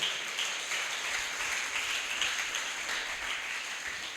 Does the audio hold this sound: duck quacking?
no